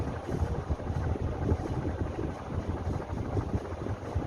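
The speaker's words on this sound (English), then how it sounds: "The fan is silent except the bearings" A 1970s CG HB 1400 mm ceiling fan runs steadily, its worn bearings giving a continuous low rumbling whir with a faint rattling texture, close and even throughout.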